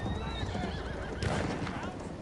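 A cavalry horse in a video game neighs with a long whinny while hooves clip-clop underneath, loud and close, with someone talking over it.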